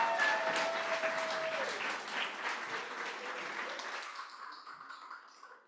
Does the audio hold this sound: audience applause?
yes